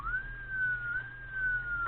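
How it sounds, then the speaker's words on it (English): A vehicle-mounted siren, installed at the front and run from a control box inside, gives a steady, fairly quiet whistling wail that rises and falls gently and continuously, with a low hum underneath. "we have a siren that we install in the front of the vehicle"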